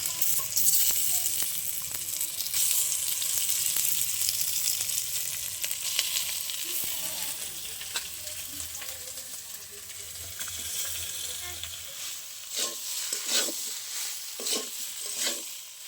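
Boiled potatoes hit a pan of ginger, onion and garlic frying in oil, giving a soft, steady sizzle with stirring scrapes, fading into quieter, sparser clinks and scrapes near the end.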